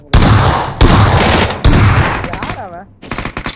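An S12K shotgun fires in a video game during a fight in school apartments, a rapid loud burst of shots up close, then a brief pause and more quick blasts.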